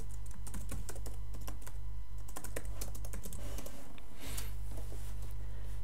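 Steady keystrokes on a computer keyboard while building a Solarus 1.3 game, a rapid irregular run of close clicks over a constant low electrical hum.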